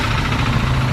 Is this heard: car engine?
yes